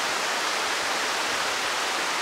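A river flows somewhere below a hiking path near Rottachsee in Bavaria, producing a dense, steady broadband rush of moving water with no voices.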